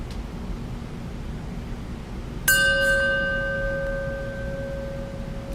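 A single bell chime rings out during a church Sunday service, struck once and ringing on with a slowly fading tone over a steady background hiss.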